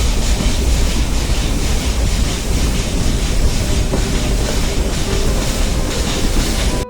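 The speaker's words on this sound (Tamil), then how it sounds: "இந்த ட்ரெயின் வந்து இந்த கர்வ்ஸில் திரும்பும் போது நீங்கள் அந்த இன்ஜினை வந்து நீங்கள் பார்க்கலாம்." Ooty toy train on the Mettupalayam to Ooty mountain railway, a steady loud rumble of carriages with continuous clickety-clack wheel noise and occasional faint squeals, heard close and without talk.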